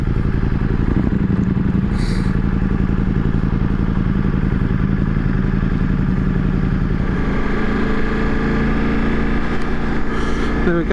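A Ducati Multistrada motorcycle engine runs loud and steady up close, a continuous rumbling drone throughout.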